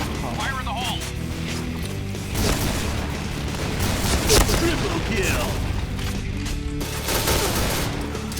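Bursts of Jackhammer automatic shotgun fire from the battle royale game PUBG, rapid booming blasts and crashes packed over a dense game soundscape, with players talking throughout.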